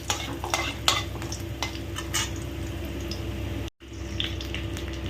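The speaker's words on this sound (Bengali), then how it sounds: "রসুন থেতো করে নিয়েছি, দিয়ে দিচ্ছি রসুন ফোড়ন" Crushed garlic tempered in hot oil during a quick bean preparation, sizzling steadily up close with scraping stir strokes and a brief cut-out near the end, no talk.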